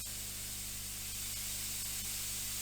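A Fengda FE-180K airbrush blows air only with the trigger held down, giving a continuous even hiss close by with no talking.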